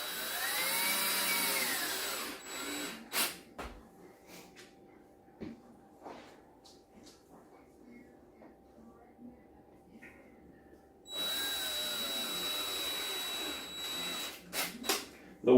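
Self-tapping screws are power-driven into a black wooden bar stool during assembly, with two loud whirring bursts of the driver at the start and end separated by quieter handling noises.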